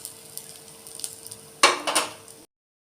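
Fried pabda fish lifted one by one from a pan of hot oil: a soft sizzle with light clinks of a utensil against the pan, then a louder burst of metal scraping and spatter before it cuts off.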